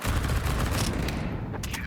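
Dense, continuous gunfire from the video game Counter-Strike, a match between NAVI and FaZe on the Anubis map, sounding as a steady fusillade of rapid shots for nearly two seconds with no speech over it.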